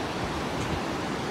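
Forceful river water rushing below the Mathur hanging trough bridge near Thiruparappu, Kanyakumari, a steady, dense broadband roar with no pauses, loud and close, with no voices over it.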